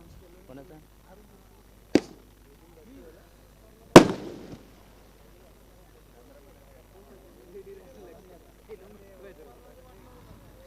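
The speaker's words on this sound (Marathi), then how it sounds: "येस, फटाक्यांची आतषबाजीत." Firecrackers go off during a cricket tournament match, two sharp loud bangs a couple of seconds apart, the second with a brief crackling tail, while people talk quietly in between.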